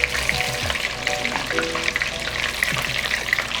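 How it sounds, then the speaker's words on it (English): Par-cooked food frying in hot oil, a steady close crackle and sizzle with bright popping bursts and occasional soft stirring or clinking underneath. "when we put it into the oil, less time to fry, and it just, again, comes crispy"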